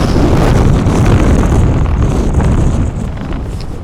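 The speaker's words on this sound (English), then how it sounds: "Back on our descent, the gale force winds grew stronger." Gale-force wind gusts batter the microphone on a mountain descent of Helvellyn, a loud, continuous roar and buffeting rumble that swells and eases slightly without a break, with no voices.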